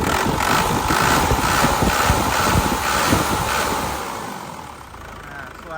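A 2004 Isuzu Panther LS Turbo diesel engine idles steadily with an even, rhythmic chug and broad mechanical rumble, heard up close with some wind buffeting on the microphone and softening slightly toward the end.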